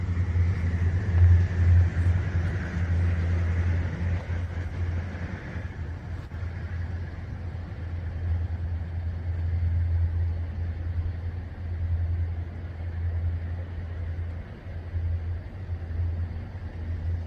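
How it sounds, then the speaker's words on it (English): Steady low diesel rumble of a passing locomotive with GP engines, a constant droning hum holding at even loudness for the whole stretch, heard from nearby with no talk. "Yeah, he just had them GP engines on there. Yeah. You can tell by the way they sound too."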